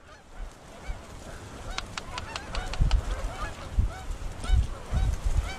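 Geese call over a decoy spread during a waterfowl hunt, a chorus of honks at middle distance over wind and low rumbling noise.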